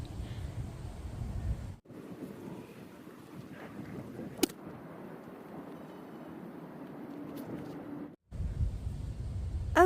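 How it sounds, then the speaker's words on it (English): Wind buffets a microphone outdoors in a garden, a steady low rumbling roar that cuts out briefly twice and returns, with a few faint sharp clicks in between. "Okay, it's a bit windy."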